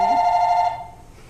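Old telephone bell ringing, one loud steady ring that cuts off abruptly and decays into a quiet room.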